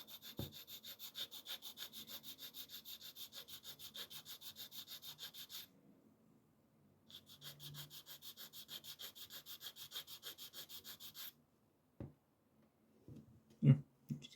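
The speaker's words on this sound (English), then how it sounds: "So all it is just simply just filing it off." Metal file rasping steadily back and forth across a PECO N gauge buffer stop, close and fairly quiet, in two runs of even strokes separated by a pause, followed by a few isolated knocks and handling sounds.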